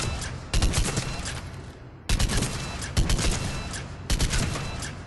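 Argus burst rifle firing in Mass Effect 3 at close range, four loud multi-shot bursts spaced about a second apart, with no voices over the gunfire.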